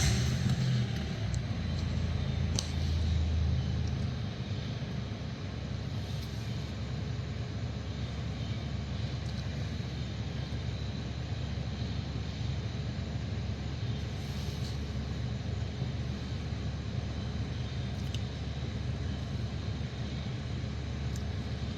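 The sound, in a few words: car engine starting and idling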